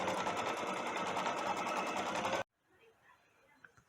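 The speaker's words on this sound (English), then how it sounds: "I am going to have to stop the machine myself because I told it to keep on sewing" An embroidery sewing machine stitches a decorative design in a hoop, a loud, fast, steady mechanical chatter close up that cuts off abruptly, leaving faint room sound.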